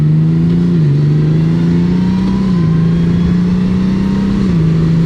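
Honda Goldwing motorcycle engine pulling steadily under acceleration, a loud, continuous low hum rising in pitch between smooth gear changes, close and without voices.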